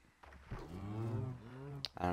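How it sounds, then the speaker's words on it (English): Cows moo in a farming video game, one drawn-out low call rising and falling for about a second, fairly faint, with a short click near the end. "I have a few cows down here."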